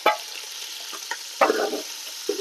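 Curry leaves hit hot oil for a buttermilk rasam and set off a sudden, close crackling sizzle. Fainter frying spits come before and after it.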